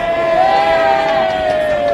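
A rugby crowd at a BUCS Super Rugby match between Durham and Bath sends a sustained, loud collective jeer at a player, a continuous drawn-out chorus of voices with no pauses.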